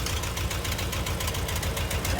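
A tractor engine idles with a steady low rumble and faint knocking pulse, close by, running on without a break through the short stretch, hooked to a gooseneck trailer at a loading ramp.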